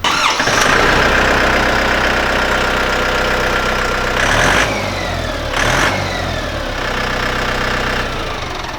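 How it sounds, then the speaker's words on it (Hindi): A Solis Yanmar tractor engine turns over on the key and catches into a loud, close diesel clatter that revs and settles, with a couple of sharp surges partway through. "ये मतलब यहाँ से चाबी से ये ट्रैक्टर स्टार्ट हो रहा है"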